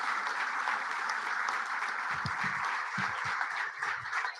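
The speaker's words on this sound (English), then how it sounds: "let's give a final round of quick big applause for DJ." A crowd at a data science meetup applauds a guest speaker, steady mid-level clapping throughout with a few low bumps of movement or voices underneath.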